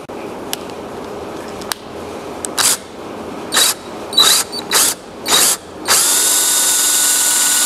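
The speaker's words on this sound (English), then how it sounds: "So I'm using this hole saw" A hole saw bores through aspen wood for a Windsor chair mortise in several short bursts, each growling cut separated by pauses, ending in a longer sustained run; close and loud, with no talking.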